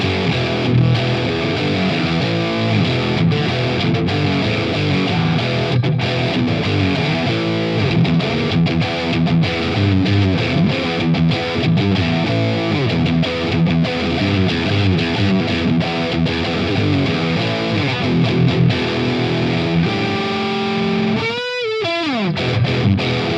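An electric guitar played through a vintage 1980s Ibanez Soundtank CM-5 Classic Metal distortion pedal, loud and saturated with a continuous run of heavily distorted riffs, then a brief descending squeal near the end.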